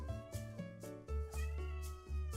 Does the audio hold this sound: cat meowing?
yes